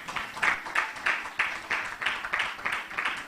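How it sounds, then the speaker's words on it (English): A conference audience claps in a steady, rhythmic pulse, roughly three beats per second, moderately distant with room reverberation and no talk over it. "Let's clap for her as she comes."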